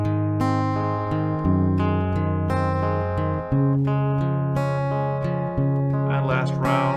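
Acoustic guitar strums a verse chord progression, steady sustained chords changing every second or so, loud and close with no voice over it.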